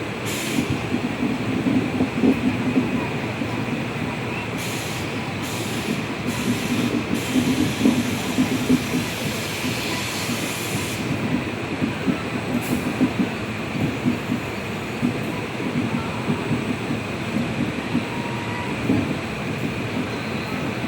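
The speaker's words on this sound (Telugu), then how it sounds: "ట్రైన్ బయలుదేరి స్లో అయింది గాయస్." A passenger train creeps slowly along the track, apparently held back by a signal. It gives a steady, close rumble with faint wheel clatter and a few brief higher squeaks, and continues evenly with no talk.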